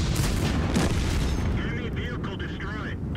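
A World of Tanks game in which an enemy tank is destroyed, heard as a loud, rumbling explosion with a long booming tail, overlapped by a voice speaking.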